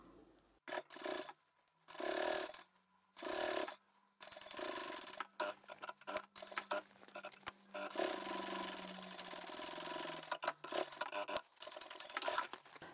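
Sewing machine top stitching along the seam line of a quilted fabric handbag, running in several bursts of steady mechanical whirring with short pauses between, then a longer continuous stretch, close and fairly loud.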